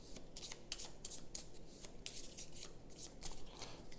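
Kingdom Legacy board game cards reshuffled by hand: a rapid series of crisp riffling bursts, close and fairly loud, with brief pauses between shuffles.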